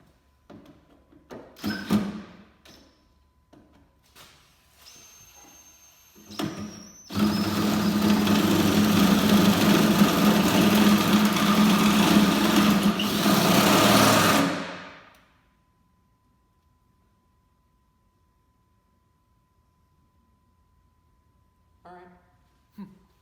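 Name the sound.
drilling a hole with a drill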